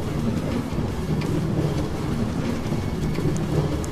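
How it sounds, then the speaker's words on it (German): Steady, dense rainfall in Minecraft hisses continuously with a low rumble underneath, even and unbroken throughout. "Nein, es fängt an zu regnen."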